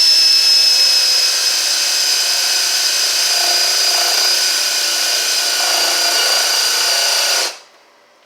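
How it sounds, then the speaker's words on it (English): A power drill whines at a steady high pitch for several seconds, drilling a hole in an emergency light to fit a toggle switch, then cuts off abruptly into silence. "I should drill a hole"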